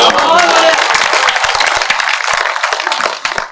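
A live audience applauds a comedy poet with dense, loud clapping that holds steady for several seconds, with crowd murmur underneath, before easing slightly at the end.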